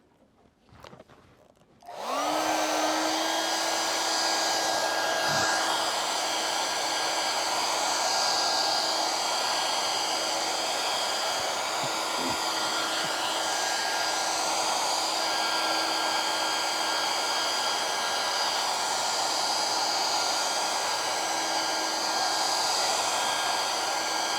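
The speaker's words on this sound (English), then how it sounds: "I want to blow dry that a little bit" A hair dryer blows on paint after a short click to switch it on, holding a loud, steady whirring drone to the end with a few faint knocks underneath.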